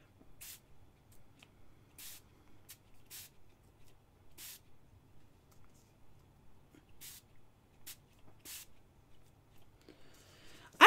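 A makeup setting spray spritzer misting repeatedly, about eight or nine short, faint hissing bursts at irregular intervals, close by in a quiet room.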